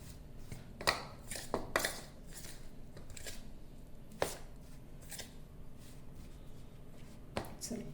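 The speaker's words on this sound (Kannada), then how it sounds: "ಮ್ಯಾಶ್ ಮಾಡ್ಕೊಳ್ಳಿ ಈ ರೀತಿ ಚೆನ್ನಾಗಿರುತ್ತೆ" Ripe bananas get mashed with ghee in a bowl for a festival prasadam, making soft, irregular squishing and scraping sounds with a few sharper taps, quiet and close, under low background noise.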